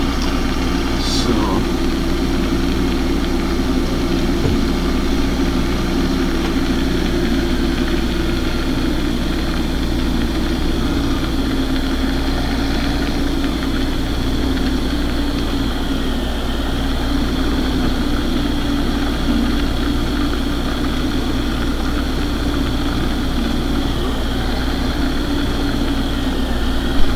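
A TMR tractor's engine idles steadily for the whole stretch, a loud, close, even low drone with constant vibration and no change in pace.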